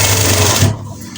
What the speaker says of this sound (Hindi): सिलाई लगा लेंगे